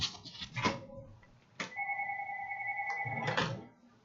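A telephone rings in a cell phone repair shop: one steady electronic ring tone lasts about a second and a half, between brief muffled bumps and low background noise.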